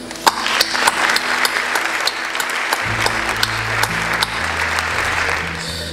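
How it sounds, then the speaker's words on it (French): Sustained applause from the audience at an awards ceremony at the Trianon in Paris, a steady wash of many hands clapping that continues for several seconds while low music tones come in underneath. "ce très gros succès mérite quelques applaudissements"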